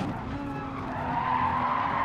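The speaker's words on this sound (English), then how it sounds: "You can hear the tyres just protesting going through the right-hander" An Audi race car's tyres squealing steadily through a right-hand corner, a sustained scrub over engine noise that swells slightly toward the end, heard from a distance at a circuit race.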